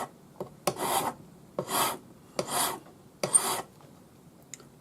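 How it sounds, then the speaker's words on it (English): A Swiss number 2 cut flat hand file rasps across the end of a half-hard forged wire bangle in four distinct strokes, each a short dry scrape with pauses between, close and fairly quiet. "But we still need to file the end flat."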